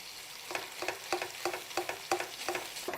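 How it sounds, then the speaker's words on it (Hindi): Steamed fish being mashed in a pan with sautéed onions over a low flame: a steady rhythm of about ten scraping, tapping spatula strokes over a soft, continuous sizzle, close and fairly quiet, with no talking. "और इसको अच्छी तरह मैश कर लें फ़िश को"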